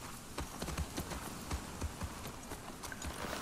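Horse hooves clip-clopping in The Last of Us Part 2, a quiet, uneven trotting rhythm of soft thuds repeating steadily throughout.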